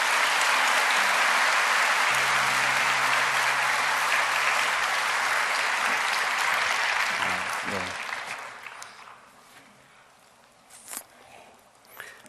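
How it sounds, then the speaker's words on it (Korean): A church congregation applauds to welcome a guest speaker at an early-morning prayer service, broad steady clapping for about eight seconds before fading into scattered claps and quiet. "우리 귀한 박수로 우리 이용표 집사님 환영하겠습니다"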